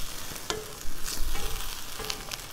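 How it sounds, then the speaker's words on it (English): A spoon scrapes sediment from the bottom of a pot of beef hotpot as it comes back to the boil, giving a few clanks and rasping stirs over a steady sizzle, no talk. "You're going to scrape all that lovely sediment down"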